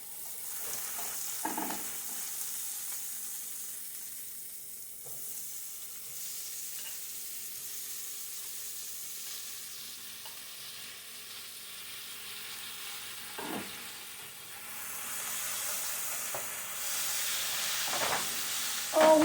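Tomatoes hit a hot pan and fry in oil beside plantains and vegetables, giving a steady close sizzle and hiss, with occasional stirring scrapes and a louder surge of frying near the end.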